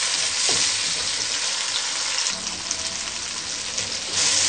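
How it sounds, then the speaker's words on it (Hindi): Tomatoes frying with garlic-ginger paste make a dense, steady sizzle up close, dipping slightly in the middle before swelling again, with faint stirring underneath. "इसको हम टमाटर गलने तक पकाएंगे"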